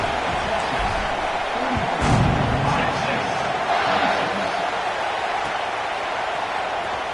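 A home football crowd at a Texas vs Iowa State game, a broad steady roar that swells briefly, running under a commentator's voice.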